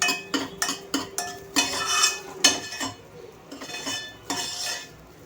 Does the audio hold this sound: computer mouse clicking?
no